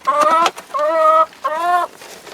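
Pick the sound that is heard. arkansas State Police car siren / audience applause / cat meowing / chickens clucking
chickens clucking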